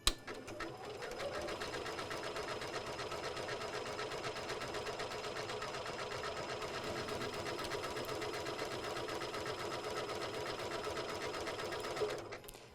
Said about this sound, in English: lower our foot and begin sewing